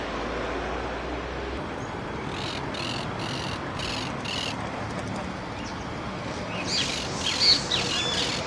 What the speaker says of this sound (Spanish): Entre los pájaros están los cardenales, que destacan por su copete y colorido llamativo.